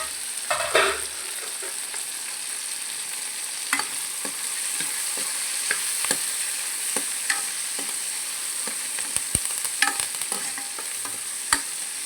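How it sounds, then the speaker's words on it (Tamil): Onions and tomatoes stir-frying in a pan: a constant soft sizzle under repeated scraping and tapping of a spatula against the pan, close and unaccompanied by talk. "வெங்காயம் நல்லா வதங்கிடுச்சு. தக்காளி சேர்த்துக்கலாம்."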